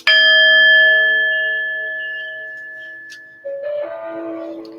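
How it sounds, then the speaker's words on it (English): One clear chime rings out and slowly decays with a long shimmering tail, followed by a softer, lower tone near the end. "when you hear the chime"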